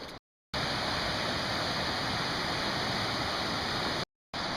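Runoff streaming along a muddy Highland hiking path gives a dense, constant hiss and rush, loud and close, broken by two brief gaps of silence.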